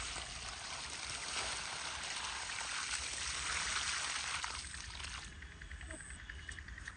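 Water splashing and pouring from a bucket onto date palms in a village setting, a steady broadband wash that runs continuously and fairly close, easing off toward the end.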